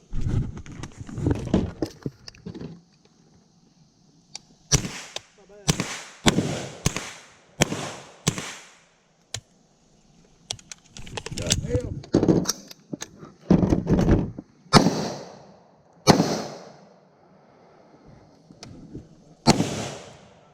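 Shooters fire pistol shots at targets on an outdoor range after drawing from the holster, sharp loud cracks in several irregular clusters, some overlapping into quick bursts, with short quiet gaps between volleys.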